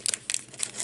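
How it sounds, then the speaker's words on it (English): Small pieces of regular Scotch tape are pulled and torn off a roll, giving a few quick crinkly rips in short bursts, close and fairly quiet, with no talking. "just going to take a couple of small pieces of regular Scotch tape."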